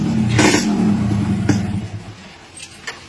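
A motorcycle engine revs up and holds a steady mid-pitched drone, with a few sharp clicks or knocks over it; close and steady, with no talk.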